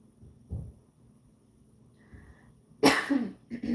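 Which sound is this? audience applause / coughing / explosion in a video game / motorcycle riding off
coughing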